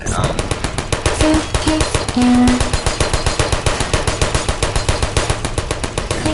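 Rapid automatic gunfire from the video game Portal, a loud and steady stream of evenly spaced shots that runs through the whole stretch, with a brief tone in the middle.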